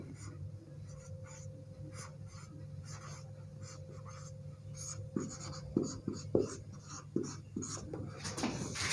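Chalk or marker scratching on a board during a class 10 science lesson on light reflection and refraction, a string of short rhythmic strokes over a steady low hum, close and fairly faint.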